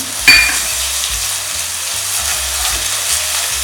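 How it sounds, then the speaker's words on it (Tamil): Ginger and garlic sauté in hot oil, a bright continuous sizzle with a knock of a utensil at the start and faint scraping stirs underneath, close and steady. "இஞ்சி பூண்டு கொஞ்சம் வதங்கட்டும்."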